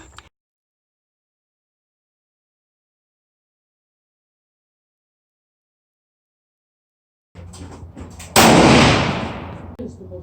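A single loud rifle shot from a Thompson Center 6.5 Creedmoor cracks and booms outdoors after a long silence, followed by a decaying echo.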